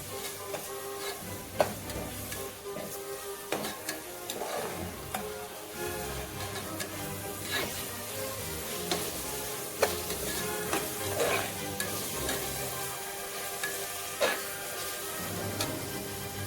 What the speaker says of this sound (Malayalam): ഇപ്പം നമ്മുടെ ഉള്ളി, വെളുത്തുള്ളി, പച്ചമുളക്, ഇഞ്ചി ഇതെല്ലാം നന്നായിട്ട് വഴണ്ട് വന്നിട്ടുണ്ട്